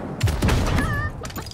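Shotgun blasts and gunfire ring out in the battle royale video game Realm Royale, several booming shots in quick succession, loud and close, with game effects layered over them.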